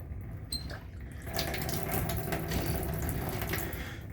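Cold water runs from a bathtub shower faucet just fitted with replacement knobs, a steady close splashing rush that begins after a brief squeak and keeps flowing without talk.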